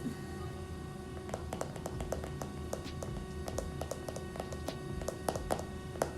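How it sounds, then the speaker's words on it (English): A heater gives a persistent low mechanical hum with a tonal whine, broken by rapid, irregular ticking and tapping clicks, moderately loud in a quiet room. "my heater is making a loud, obnoxious noise"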